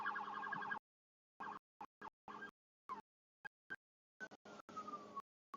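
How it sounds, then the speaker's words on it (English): A wailing siren rises and falls in the distance at night in the Oklahoma City metro, chopped by repeated silent gaps, with a steady hum underneath. "You can hear the fake police sirens in the distance."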